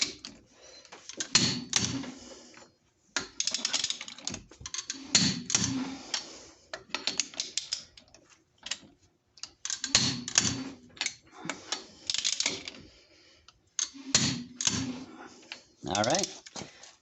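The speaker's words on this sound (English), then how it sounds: "go ahead and re-torque them again to make sure that they all click" Short bursts of mechanical clicks and ratcheting come from a torque wrench re-torquing the wheel spacer nuts on a Jeep Commander. They repeat in clusters separated by pauses, heard up close in what sounds like a garage.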